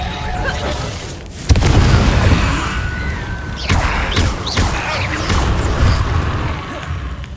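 Reducto spell detonation in Hogwarts Legacy: a sharp loud boom breaks out suddenly, then crashing debris and further bursts rumble through busy combat sounds.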